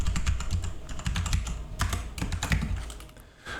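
Rapid, uneven keyboard typing, close and fairly quiet, with clustered bursts of key clicks and brief pauses, no voices.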